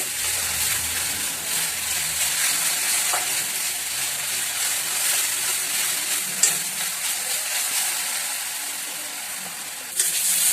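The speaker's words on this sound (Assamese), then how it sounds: "এইখিনি আদা নহৰু গন্ধ যোৱালৈকে ভাজি থাকিব" Ginger and garlic fry in a pan with a steady, even sizzling hiss up close, broken by a couple of sharp clinks.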